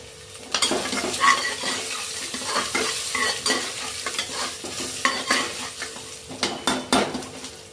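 Grated coconut stirred and sautéed in hot oil for chenna masala, a spoon scraping and clinking against the pan in an irregular rhythm over a light sizzle, close and fairly loud with no voices.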